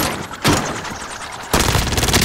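Rapid bursts of dual pistols firing stopping-power rounds in a shooter video game: two loud volleys of quick, close shots separated by a short pause.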